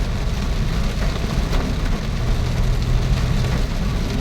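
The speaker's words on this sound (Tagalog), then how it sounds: "magdamag ang ulan hanggang ngayon sa mga oras na ito." Heavy typhoon rain pouring on a road in Montalban, Philippines, heard from a vehicle as a loud, unbroken roar of rain on surfaces with a low rumble beneath, steady throughout with no talking.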